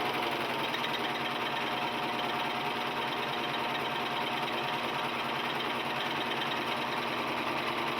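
A Singer 14J250 Stylist four-thread serger runs steadily through fabric, a close, continuous whirring drone with a fast mechanical chatter that holds level throughout without pause.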